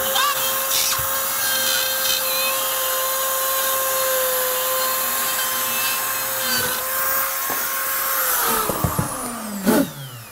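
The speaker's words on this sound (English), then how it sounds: "we keep pressure on the outside of that box until we've traced it out and it cuts through the drywall" A drywall cutout tool is traced around an electrical box while it cuts through drywall. It gives a steady high whine with grinding rasp throughout, then a few sharper knocks and scrapes near the end, with no talking.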